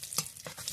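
Spices, chopped garlic and chili are stirred in hot mustard oil for a coriander pickle, making a close sizzle with a few quick spoon scrapes in under a second.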